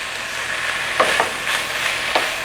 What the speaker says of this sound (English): halfway through the cooking process of the ground turkey, I'm going to add the chopped tomatoes